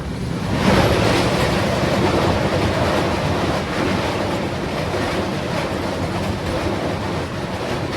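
A passenger train pulls away after a halt at Ratlam and rumbles along at speed, heard from inside a carriage as a loud, steady roar with rhythmic wheel clatter on the rails and no talk.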